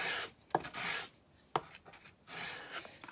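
Short rasping strokes of abrasive on MDF board edges, a few quick rubbing passes separated by brief pauses, close to the microphone.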